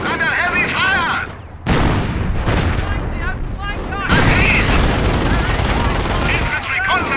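Dense gunfire and booming blasts from a World War II battle in the Company of Heroes strategy game, loud and continuous with broadband bursts, while in-game voices shout over the combat.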